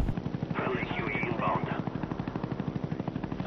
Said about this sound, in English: Ooh, chopper gunner time.